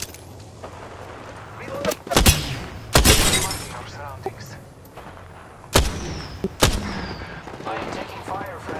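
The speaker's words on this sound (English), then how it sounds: "some more shooting" Apex Legends gunfire: loud, close bursts of rapid shots and sharp cracks in two main clusters, under the players' hurried talk and the clatter of battle.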